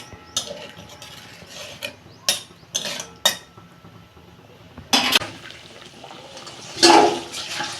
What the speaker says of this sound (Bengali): মশলাটা ফুটে গেছে, আমি মাছগুলো দিয়ে দিচ্ছি